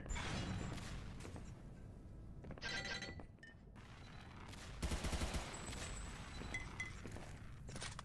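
Rapid gunfire during a Xonotic duel match, with clustered bursts of sharp shots and metallic clinks over a busy game soundscape, fairly close and loud, with no talking.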